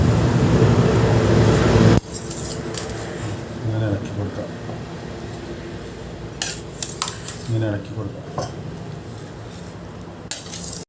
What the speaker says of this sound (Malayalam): ഇങ്ങനെ അടിയിൽ നിന്ന് ഇങ്ങനെ ഇളക്കി കൊടുക്കാം